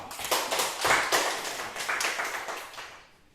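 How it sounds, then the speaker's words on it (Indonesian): A classroom group claps after a student group presents on Nias island dance, a loose scatter of several hands that swells and then tapers off toward the end. "tepuk tangan untuk kelompok 2"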